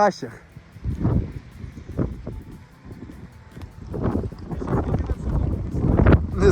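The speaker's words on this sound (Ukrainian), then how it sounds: "вітер сильніший, знову починається дощ" Strong wind buffets the microphone in uneven rumbling gusts on a hike near Lake Arshytsia as rain begins, rising and falling throughout, with no other clear sounds.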